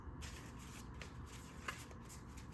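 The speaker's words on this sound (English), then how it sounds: "I'm gonna begin shuffling the cards." Soft, continuous riffling of tarot cards being shuffled close by, a quiet papery flutter with a few small taps, no voices.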